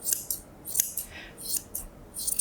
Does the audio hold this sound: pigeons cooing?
no